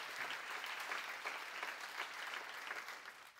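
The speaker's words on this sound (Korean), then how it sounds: "박수 하나 둘 셋." A congregation claps during a church sermon, producing a steady, fairly faint patter of many hands that lasts the whole time with no talking over it.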